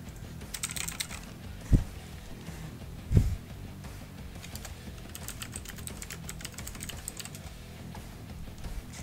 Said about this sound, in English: My keyboard is almost as loud as my voice.